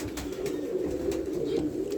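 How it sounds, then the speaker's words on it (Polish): Pigeons sitting on eggs in a loft coo continuously, a steady low warbling murmur from several birds close by, with no talk over it. "Dużo jest gołębi na jajkach."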